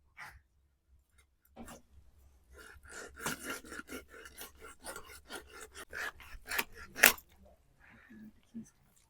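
A large rohu fish is cut in a home kitchen, giving a series of close, rasping scrapes and crunching strokes in uneven bursts while a person talks.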